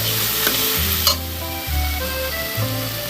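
Meat frying in a pan with turmeric added, a steady close sizzle with repeated scraping stirs of the spatula across the pan, no talking.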